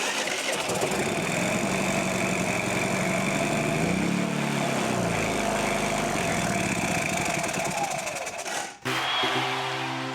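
A Predator 3500 generator engine, freshly repaired with new valve springs and retainers, fires up and runs with a steady close, loud drone that stumbles and dips briefly near the end before settling back into its idle.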